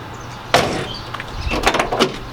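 Tailgate latch on a 2017–19 Honda Rideline being worked, a sharp metallic clack followed by several quick rattling clicks and knocks, close and alone.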